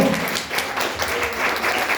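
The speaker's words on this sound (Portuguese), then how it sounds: "Dê uma salva de palmas para o Senhor." Congregation applauding at an Assembly of God church service after an evangelist's sermon, steady dense clapping filling the space for the full stretch at an even level, with no voices over it.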